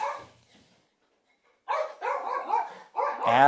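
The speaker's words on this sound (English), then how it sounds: "puppy is very excited" A small dog yips and barks excitedly in quick bursts after a brief pause, close and fairly loud.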